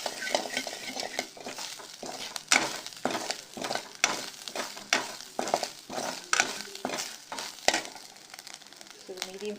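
Grated coconut sautéing in a pan for Mysore rasam, a steady close sizzle broken by repeated scraping stirs of a spoon against the pan.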